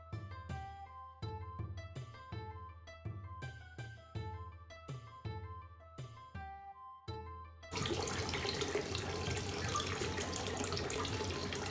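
Running water splashes steadily at a washing station in a Japanese hot spring bath at Hakone, starting as scattered pattering splashes and then becoming a loud continuous gush for the last few seconds, with no talking.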